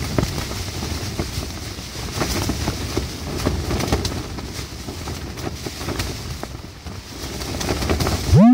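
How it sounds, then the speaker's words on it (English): Strong wind blowing outdoors at a campsite in Ireland, heard as a continuous rough buffeting rush battering the microphone throughout, with no one speaking. "It's just really, really windy."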